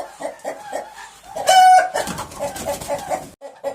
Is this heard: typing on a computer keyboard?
no